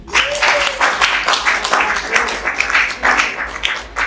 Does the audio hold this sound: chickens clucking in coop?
no